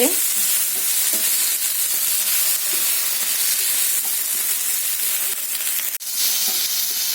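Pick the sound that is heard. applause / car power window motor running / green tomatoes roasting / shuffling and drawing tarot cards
green tomatoes roasting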